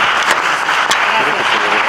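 An audience at an evening gathering applauds a speaker, a brief burst of dense, loud clapping heard close up with a few sharp individual claps standing out.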